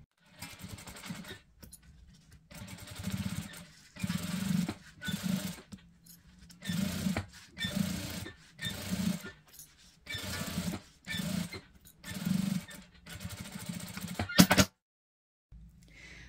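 A sewing machine stitches a zipper channel with a size 14 needle at 3.5 stitch length, running in repeated close bursts of rapid mechanical whirring separated by short pauses, then stopping abruptly near the end.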